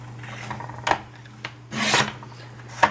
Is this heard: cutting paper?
yes